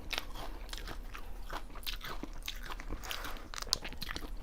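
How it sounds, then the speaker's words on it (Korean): BBQ fried chicken is bitten and chewed up close, giving repeated crisp crunches and soft chewing in a quiet room. "역시 후라이드가 비비큐가 맛있어요."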